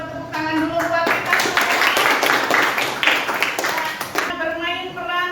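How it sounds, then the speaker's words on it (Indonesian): A classroom of students claps hands together during a food-chain lesson, dense and steady for several seconds near the listener, with a few voices calling out over the applause before it tapers off at the end. "coba tepuk tangan dulu buat kita"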